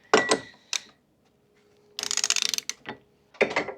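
Ratchet wrench driving a 32 mm socket on the top nut of a Penske shock held in a vise, giving short bursts of rapid clicking separated by pauses, close and fairly loud.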